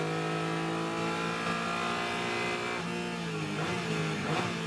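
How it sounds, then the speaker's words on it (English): A Porsche Cayman race car's engine rings out from just behind the in-car camera at Sonoma Raceway, holding a steady loud drone and then shifting pitch as the revs drop and rise again. "The Cayman sounds, you can hear that engine right behind the camera there."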